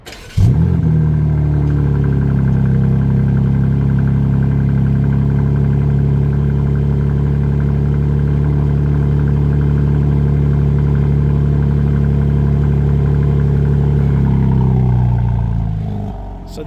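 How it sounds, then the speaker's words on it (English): A 2027 BMW M3 Competition engine cold-starts with a sharp crank and flare, then settles into a loud, steady high idle for about fifteen seconds before easing slightly, close up and with no talking. "So that was the cold start"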